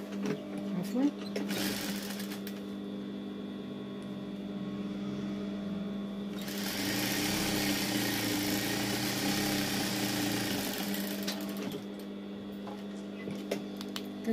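A sewing machine stitching the hood of a jellaba runs in two long bursts of fast, even whirring, with quieter motor hum and pauses between them, while someone talks over it.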